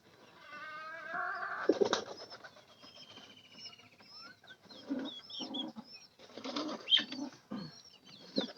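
Pigeons kept in a loft coo nearby in soft, repeated low calls, mixed with a brief flutter of wings and a few thin chirps, at a quiet level with pauses between.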